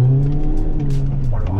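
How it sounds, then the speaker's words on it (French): A supercharged Mini Cooper S R53 on the road, its engine holding a loud, steady, tonal drone from inside the car that shifts slightly in pitch toward the end. "Le compresseur est vraiment violent."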